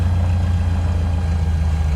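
Single-engine Mooney M20R Ovation piston engine in Microsoft Flight Simulator 2020, its steady low drone running alone and loud as the prop pitch is pulled back and the revs sag toward a stall.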